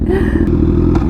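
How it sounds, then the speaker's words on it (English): A sport motorcycle exhaust, on a Honda CBR1000RR or Kawasaki 636, rumbles loud and close in a deep throbbing idle with rev pulses, with a couple of brief clicks or thuds over it. "let's hear his exhaust some more"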